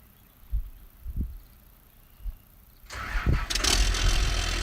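A few dull thumps, then a heavy tractor sprayer engine cranks and roars to life, settling into a loud rumbling idle with a hissing, whooshing edge.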